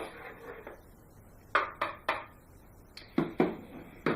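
A utensil clinks and taps against a container while blue liquid is stirred, several sharp knocks in small clusters against quiet background.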